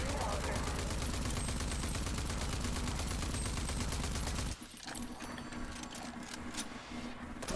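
Rapid, sustained automatic gunfire in the video game Rage 2, loud and dense, then giving way to quieter game noise and scattered shots.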